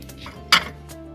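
One sharp clink of ceramic plates knocking together rings out briefly over a quiet background.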